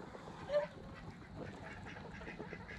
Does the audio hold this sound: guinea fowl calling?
yes